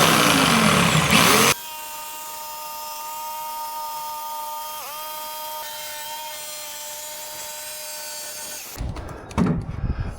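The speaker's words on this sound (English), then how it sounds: "Take your jigsaw, put a nice fresh blade on it," A jigsaw fitted with a fresh blade whines steadily as it cuts plywood for a two-foot mini ramp, a close, continuous tone with a brief dip midway, ending in rougher clatter.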